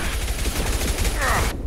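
Rapid bursts of enemy gunfire crackle through a firefight in the video game Mass Effect, dense and continuous with fusillade-like volleys, cutting off abruptly near the end.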